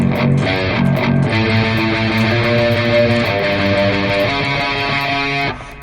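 A heavily distorted electric guitar plays a fast riff mixing rapid sweeping arpeggios with chugging heavy chords, dense and loud for about five and a half seconds before cutting off.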